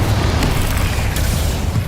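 A fiery Incendio spell blast from the game Hogwarts Legacy bursts out as a loud, dense roar of flame with low rumble, sustained for about two seconds with no talking.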